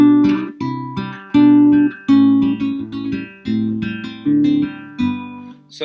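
An acoustic guitar plays part of a song: clear plucked notes in a steady fingerpicked rhythm, close and moderately loud, with no talking.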